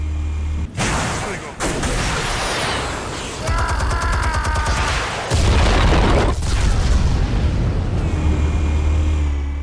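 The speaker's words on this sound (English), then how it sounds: "Explosives armed. Fire when ready." Heavy booms and rolling blasts from explosives going off in the video game Batman: The Telltale Series, several loud detonations with a deep low-end rumble and rattling debris, mixed with music and brief voices.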